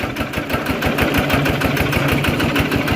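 A modified farm tractor's heavy engine idles with a steady, rapid chugging pulse, loud and close, with no other sounds.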